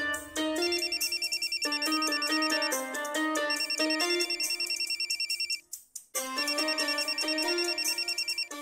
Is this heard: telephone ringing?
yes